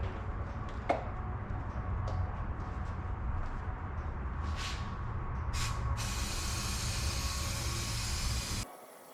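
Spray adhesive being applied inside a Pontiac 6000 wagon during an interior refresh: a steady hiss of spraying over a low background rumble, with a brief louder burst near the end before it cuts off.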